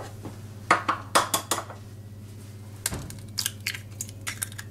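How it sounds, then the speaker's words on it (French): Choux pastry dough being stirred vigorously with eggs in a pot, a series of quick knocks and scraping clatters of a utensil against the vessel, close and irregular with short pauses. "je mélange bien pour intégrer l'œuf"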